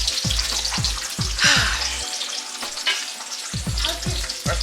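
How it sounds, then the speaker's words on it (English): Small meatballs frying hot in a pan, a steady loud sizzle broken by repeated scraping and stirring clatters, briefly dipping quieter midway before stirring resumes. "I gotta check these little meatballs, child, because they acting like they trying to burn"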